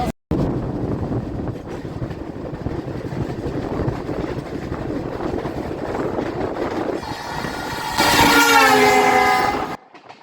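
The Danapur Intercity Express, a passenger train, rumbles past with a steady roar of wheels on track, then sounds a loud, sustained horn for about two seconds near the end.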